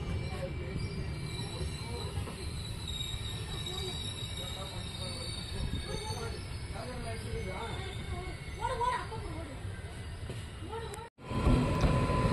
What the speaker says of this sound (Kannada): ಬೆಳಗಾವಿಯಿಂದ ಮೈಸೂರಿಗೆ ಹೋಗೋ ವಿಶ್ವಮಾನವ ಎಕ್ಸ್ಪ್ರೆಸ್ಸು ಪ್ಲ್ಯಾಟ್ಫಾರ್ಮ್ ನಂಬರ್ 1ಕ್ಕೆ ಅರೈವಲ್ ಆಗ್ತಿದೆ ಚಿಕ್ಕಜಾಜೂರು ಜಂಕ್ಷನ್ಗೆ